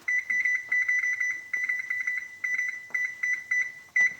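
A kitchen timer beeps in rapid clusters of short, high electronic tones with brief pauses between groups, clear and fairly close in a quiet room.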